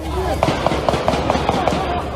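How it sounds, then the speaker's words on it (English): A rapid burst of automatic gunfire on a Sacramento nightclub street, about eight evenly spaced sharp cracks, sounds over voices and crowd noise. "When the sound of automatic gunfire rings out"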